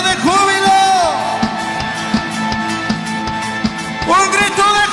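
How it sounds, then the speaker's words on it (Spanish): A church congregation at a Spanish-language service shouts and whoops for joy, loud raised voices swelling at the start and again near the end over steady rhythmic beats. "¡Me den un grito de júbilo!"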